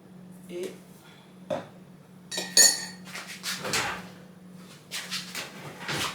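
A teaspoon scoops sugar into coffee, giving a few sharp near clinks and light scrapes spread over a few seconds above a faint steady hum.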